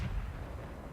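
A tank cannon fires in World of Tanks, heard as a loud, sustained low-heavy boom and rumble that fills the whole second without a clear break.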